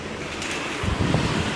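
Sea waves heard from a terrace by the ocean in Colombo, Sri Lanka, a steady rushing wash of surf with wind buffeting the microphone, a low swell rising midway through the short stretch.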